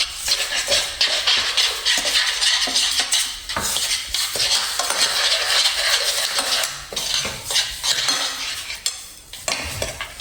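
A spoon stirs Maggi noodles in a pan, giving a steady scraping and clinking that runs the whole time with a faint sizzle underneath, close and fairly loud.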